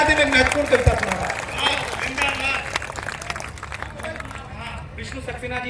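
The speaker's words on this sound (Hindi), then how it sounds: "एक बार सारे लोग तालियां बजा दे।" Audience applause at an outdoor comedy poetry gathering at Assi Ghat in Banaras, a burst of clapping from a crowd that thins out as a voice speaks over it.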